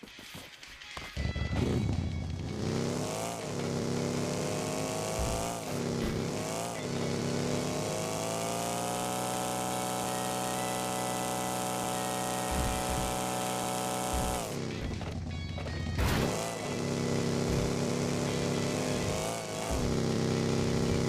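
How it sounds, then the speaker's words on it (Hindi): A buggy in a video game driven flat out toward a hill, its engine droning loud and continuous with rising and falling revs and brief dips between gear changes. "यहाँ मैं गाड़ी एकदम भगाते हुए लेके जाता हूँ पोजिंकी के पीछे वाली पहाड़ी पे"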